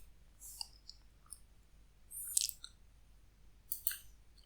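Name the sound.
mouse clicks while deleting cells in Google Sheets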